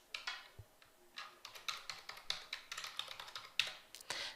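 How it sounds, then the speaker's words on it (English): Vendor details typed on a computer keyboard, a quick, uneven run of crisp key taps with short pauses, close and fairly quiet, with no talking. "then type in the vendor details"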